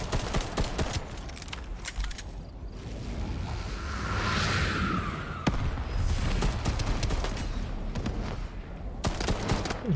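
Gunfire in the video game Shatterline, with scattered bursts of sharp shots and whooshes over a steady hum of game ambience, fairly quiet and distant in the mix.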